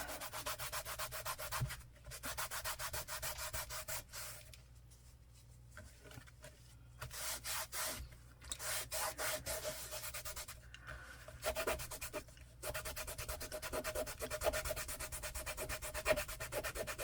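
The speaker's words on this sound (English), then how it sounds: "Some of it's just not going to come off, no matter how hard I scrub." Scrubbing and rubbing over the worn cover of a heavily used secondhand book, a steady close-up scratchy friction in repeated strokes with short pauses, no talking.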